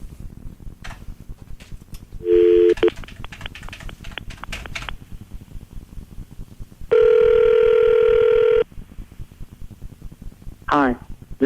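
A phone call is dialed: a rapid series of tone beeps, a short ringback burst, then a long steady ring tone before the call drops to voicemail, with clicks and faint background chatter throughout.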